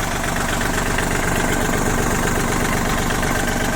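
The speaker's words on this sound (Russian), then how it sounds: "Мотор работает достаточно ровно, без каких-либо замечаний." A Kubota ZL1245 mini tractor fitted with a snow blower idling close by, a steady, even chugging rumble with no voices.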